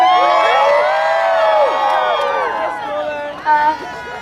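A crowd at a New York City street rally against a missile attack on Syria cheers and whoops, with sustained shouting voices rising and falling over a few seconds before tapering off.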